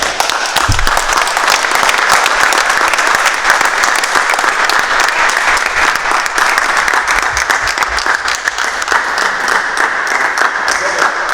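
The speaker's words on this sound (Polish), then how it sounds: "I wielkie brawa!" A crowd applauds loudly and continuously at a post-match press conference after Polonia Warszawa versus Olimpia Elbląg, dense clapping filling the room for several seconds, with a few voices faintly mixed in.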